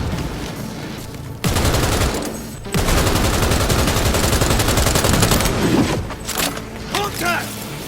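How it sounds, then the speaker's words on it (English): Sustained automatic gunfire in the futuristic shooter Cyberpunk 2077, rapid dense bursts that start abruptly and roll on loud and close for several seconds, with a brief pause and voices in the mix. "I am taking fire!"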